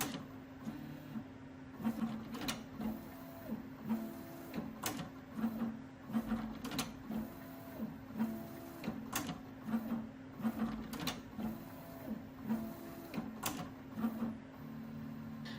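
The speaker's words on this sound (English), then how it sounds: "The machine will then pick and park the tool head a few times." A Prusa XL five-toolhead 3D printer picks up and parks its tool head repeatedly, giving a steady mechanical hum with regular motor whirs and sharp clicks and clunks as the head docks. The sound is close and continuous, with no talking.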